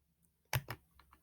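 A computer mouse clicks on a word on screen: one sharp close click quickly followed by a second, then a few faint ticks in an otherwise quiet room.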